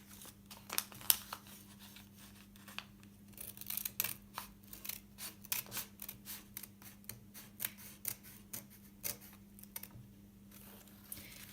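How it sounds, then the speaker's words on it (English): Scissors snip slits into a folded sheet of paper, a long run of quick, quiet crisp cuts close by with no voices. "Now we're going to cut slits from the folded edge up"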